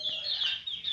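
Young tiger chickens calling, a brief burst of thin, high peeps, quiet and close.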